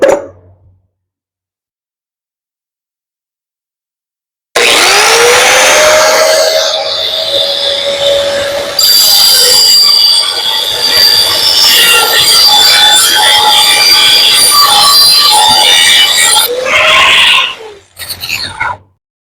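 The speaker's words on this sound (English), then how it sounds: "I will first grind grooves at the bend lines to make the bend sharp and straight." An angle grinder cuts grooves along the bend lines of a sheet-metal pan for an aircraft jack extension. After a silent start there is a loud, harsh, continuous grinding with a shifting high whine for about thirteen seconds, then it tapers off.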